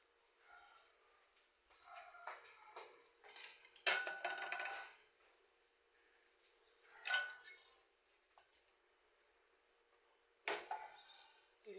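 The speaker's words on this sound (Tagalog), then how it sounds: "Kuha tayo ng kawali." A metal frying pan (kawali) being taken out for cooking dried fish, with several sharp clattering bursts of pans knocking together at close range, separated by quieter handling sounds in a home kitchen.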